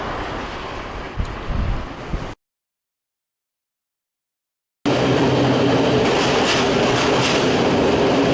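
Train at Budapest Keleti station, loud steady rumble of rolling rail cars with a muffled stretch, a short dead-silent gap, then a louder continuous roar of the train in motion.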